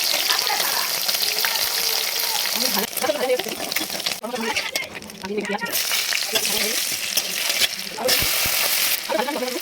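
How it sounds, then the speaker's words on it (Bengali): Potatoes frying in hot oil give a steady, close sizzle and crackle that runs the whole time, with brief stirring scrapes and a few quieter gaps, while a voice talks over the cooking. "তেল গরম হয়ে গেছে, আমি এগুলো ভেজে নেব"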